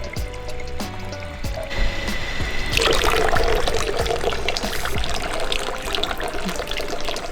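Water pours steadily into a bottle from a fountain with a bright, rising trickle, close by, over a background of outdoor running water, in Interlaken, Switzerland.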